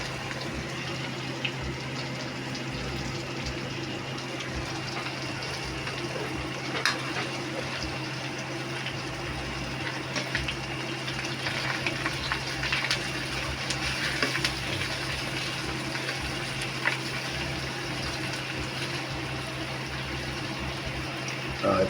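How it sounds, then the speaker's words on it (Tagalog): Meat frying in a pan: a steady, continuous sizzle with faint scraping and clinks of cooking, no talk over it. "pagka medyo nagprito-prito siya"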